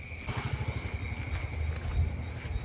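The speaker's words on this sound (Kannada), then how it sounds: "ಹಿಂದೆ ಬರ್ತದೆ ನೋಡ್ರಿ ಸ್ಕೂಟಿ ಬರ್ತದೆ ನೋಡ್ರಿ" A scooter's small engine putters steadily from behind, a close, fluttering mid-pitched hum that stays fairly even and rises slightly as it draws near.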